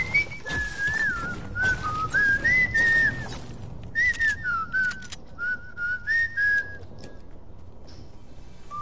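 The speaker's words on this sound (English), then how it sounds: "Who's whistling?" A person whistles a wavering, tuneless melody in short repeated phrases during an online gaming session, fairly close, with a faint game soundscape beneath.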